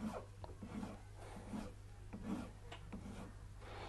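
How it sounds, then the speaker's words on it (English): A file rasps steadily against a wax signet ring blank, taking down the corners toward the circle in repeated close strokes over a low steady hum. "I'm just filing down towards the circle now."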